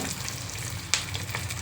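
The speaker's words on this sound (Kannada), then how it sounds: "ಈ ಕಡೆ ಸಾಂಬಾರು ಬೇಯ್ತಾ ಇದೆ, ಆ ಕಡೆ ಒಗ್ಗರಣೆನೂ ಬೇಯಿಸ್ಕೊತಾ ಇದ್ದೀನಿ." Sambar simmering while a spice tempering fries in a small pan, giving a soft continuous sizzle and bubbling with one sharp clink, close and alone.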